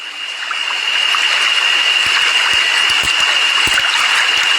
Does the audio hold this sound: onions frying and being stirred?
no